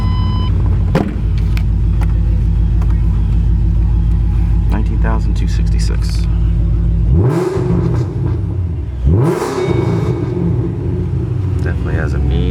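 A 2008 Shelby GT500 convertible with headers and aftermarket exhaust idles with a deep, loud rumble, then revs twice in sharp rising blips that fall back to idle.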